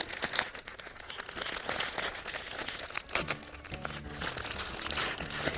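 Little plastic bags crinkle and rustle close up during the unboxing of a yarn fiber subscription package, with continuous irregular crackling throughout and no talk.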